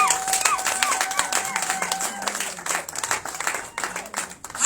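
A church congregation breaks into scattered cheering and clapping at a Saturday service, a moderate, uneven patter of applause with voices mixed in.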